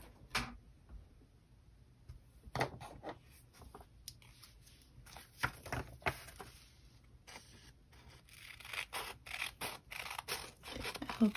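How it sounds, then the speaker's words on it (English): Scissors trim the rough edges of book pages, with quiet crisp snips and papery rustles coming in irregular bursts, close by and faint, without speech. "I'm going to trim off these rough edges here"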